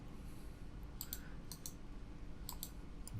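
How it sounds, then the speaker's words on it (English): A computer mouse clicks quietly during copying and pasting, with a few crisp clicks in quick pairs spread across a low background hum. "right click, paste, right click, paste"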